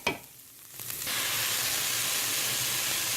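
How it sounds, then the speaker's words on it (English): Tomatoes hit hot olive oil in a pan with a sudden loud, steady sizzle that starts after a brief clatter and then holds unbroken, close and without talk. "so all the tomatoes are in there now, and I'm just tossing them around, making sure some of that olive oil gets on those tomatoes"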